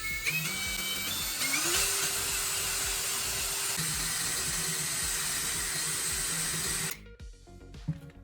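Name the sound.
drilling a hole in a steel L bracket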